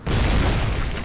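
A mortar shell explodes in a video game, one loud, close, full-bodied boom that fills the short moment and stays heavy for about a second before easing slightly.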